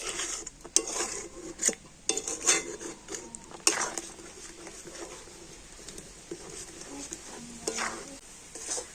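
Sweetened milk stirred in a pan while making kheer, a spoon scraping and tapping the metal in irregular bursts over a soft bubbling background, fairly quiet and close.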